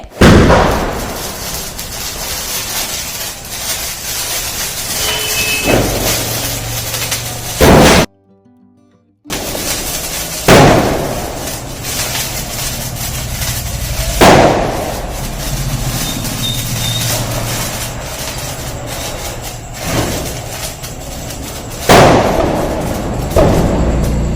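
Diwali firecrackers burst one after another, sharp loud bangs spaced several seconds apart over a steady background of crackling and distant rumble, with one brief moment of silence.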